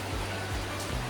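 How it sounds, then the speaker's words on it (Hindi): Heavy rain falls outdoors at a long hanging bridge in Mathoor, Tamil Nadu, a dense, steady hiss with low rumbling, close and continuous throughout. "आउटसाइड पूरी बारिश हो रही है, बहुत बारिश हो रही है"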